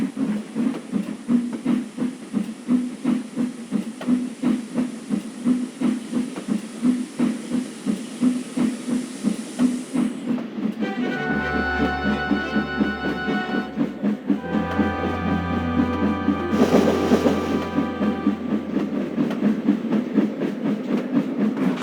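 A steam engine named Gordon backs down onto his train, heard as a steady rhythmic chuffing beat for several seconds, then hissing steam and a low whistle-like tone join in as the engine moves on the rails.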